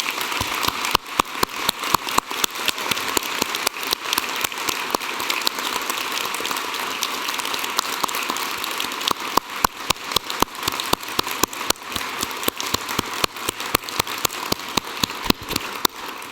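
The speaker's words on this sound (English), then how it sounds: "would join me in applauding the wonderful" At a University of Newcastle graduation ceremony, the audience gives loud, sustained applause for the graduates. Sharp individual claps stand out over a dense wash of clapping throughout.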